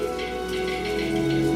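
Steady rain falls as a sound effect, a dense continuous patter and hiss that swells slightly louder toward the end, with no voices.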